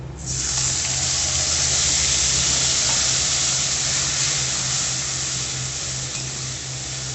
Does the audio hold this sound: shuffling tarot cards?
no